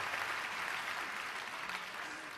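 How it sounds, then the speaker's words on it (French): Gala audience applauding a winner, dense continuous clapping from a large crowd that stays loud and fades slightly at the end. "Applaudissez-le, vous autres"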